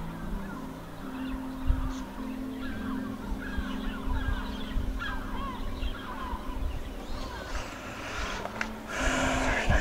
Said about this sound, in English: Flock of seagulls.